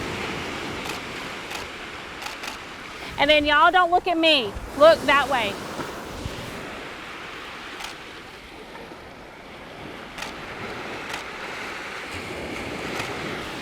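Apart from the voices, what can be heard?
ocean waves washing in on a beach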